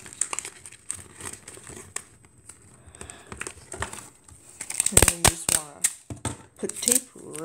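Tape pulled from a roll and torn while assembling a folded paper origami takeout box, heard as crinkly rips and sharp snaps, loudest in a cluster near the end, close and clear.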